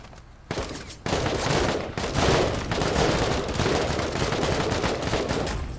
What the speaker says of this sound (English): Tech do some shooting.